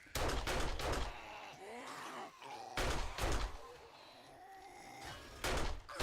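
Gunfire in the zombie survival game 7 Days to Die: three sharp bursts of two or three close shots each, with quieter rustling and a faint groaning sound between them. The level is fairly low overall.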